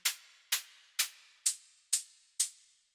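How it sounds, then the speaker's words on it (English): Enveloped white noise from Ableton Operator shaped for a techno hi-hat, six evenly spaced bright hissy bursts with fast attacks and short tails, heard alone. "we have the white noise"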